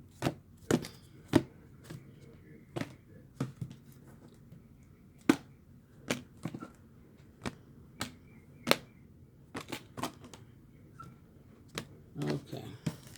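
Tarot cards being shuffled and mixed by hand, heard as a string of sharp, separate riffling snaps and taps at uneven intervals over a quiet, soft background rustle, close and fairly clear.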